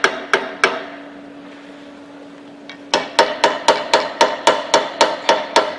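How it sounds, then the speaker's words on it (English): A hammer strikes around the collar of a magnetic drill set up for line-boring, ringing metallic blows: three spaced hits, a pause with a lingering hum, then a fast even run of about a dozen loud strikes. "and you just hammer around the collar"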